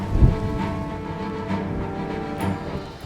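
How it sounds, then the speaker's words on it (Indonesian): Steady rain falling in a dense tropical forest in remote Indonesia, a continuous soft hiss with faint low rumbles and occasional louder patters, no voices. "Lama kami menunggu, hujan pun tak kunjung berhenti."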